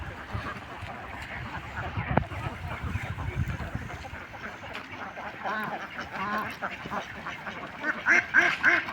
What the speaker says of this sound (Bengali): এই যে দেখতে পাচ্ছেন অনেক সুন্দর জায়গায় হাঁস।